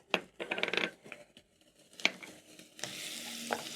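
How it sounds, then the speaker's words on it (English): Carrots and spices stirred in a cooking pot for a green banana stew: scraping spoon strokes and small metallic clinks over a light sizzle, with a steadier frying hiss near the end. "Stir in and cook the carrots together with the spices for around a minute"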